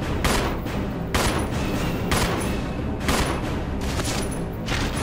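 Repeated heavy gunshots in the game Resident Evil 0 HD Remaster, four or five loud booming blasts spaced about a second apart over a dense, noisy background.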